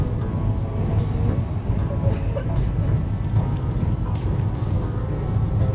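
A train crosses the Kolaghat bridge on the Kolkata to Tatanagar run, giving a loud, steady, close rumble with a continuous rolling roar and no breaks.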